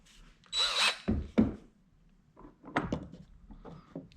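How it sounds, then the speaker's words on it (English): Two short bursts of a power drill whirring near while drilling holes in rubber decking, separated by pauses, followed by quieter clattering and handling noises. "then measure, and then drill the next hole"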